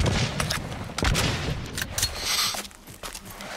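Rapid gunfire bursts from the online shooter Blacklight Retribution, several sharp loud shots in quick succession with a short lull, then more firing near the end.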